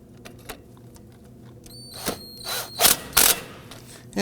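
Ratchet or power tool zipping down bolts on a 2005-2009 Subaru Legacy 2.5L H4 front CV axle: a few quiet clicks, then several short, loud whirring bursts up close, with metallic tones in between.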